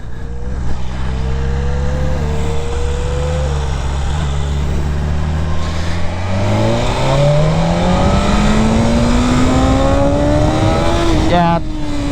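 A stock BMW S1000RR sportbike accelerates hard at near full throttle in second gear, its engine note climbing steadily to a high scream before briefly shifting, loud and close with wind noise throughout.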